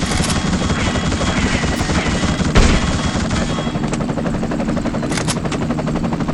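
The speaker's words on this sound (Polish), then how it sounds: "Z tym helikopterem będzie bardzo wesoło." A helicopter in the video game The Suffering drones loudly and steadily with rotor chop throughout, with bursts of gunfire cutting through the dense mix.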